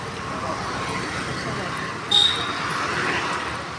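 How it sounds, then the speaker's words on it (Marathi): Busy road traffic with many vehicles passing forms a steady roar, a short horn-like tone cutting through near the middle, with faint voices murmuring in the background. "असं भरपूर ट्रॅफिक आहे तिथं, भरपूर गाड्या येत राहतात."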